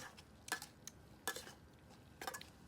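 Metal spatula clanking and scraping in a pan while stirring a pork belly red curry stir-fry, three distinct bright clatters spaced about a second apart over a quiet background.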